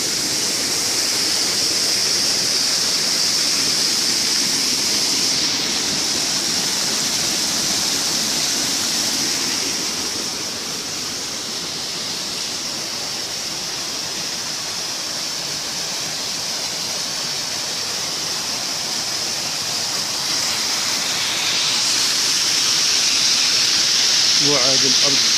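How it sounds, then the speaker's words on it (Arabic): A waterfall near Bouadel in Taounate, Morocco, roars as a steady broadband rush of falling water, loud and continuous, dipping slightly midway before swelling again. "إنها شلالات"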